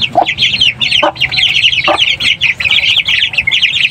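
Aseel chickens cluck close by in a dense, continuous chatter, with a few sharper, louder squawks breaking through at intervals.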